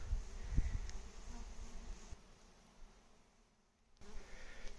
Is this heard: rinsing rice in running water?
no